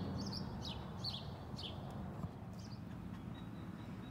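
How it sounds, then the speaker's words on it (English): Birds chirp in short, repeated bursts, fairly faint, over a steady low background rumble with no talking. "I hear the birds sing, not a note is sung out of tune or out of place."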